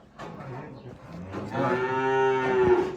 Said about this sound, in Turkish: Burada inekler var arkadaşlar.